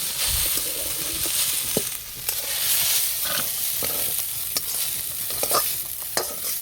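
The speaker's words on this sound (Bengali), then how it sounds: "হালকা করে ভেজে একটু নরম করে নিয়েছি, এবার নামিয়ে দেব।" Potatoes fry lightly in a pan with a continuous close sizzle, broken by occasional clinks and scrapes of stirring.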